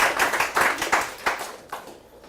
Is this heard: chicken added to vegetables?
no